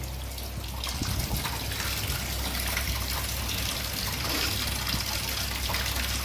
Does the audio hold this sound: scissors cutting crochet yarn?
no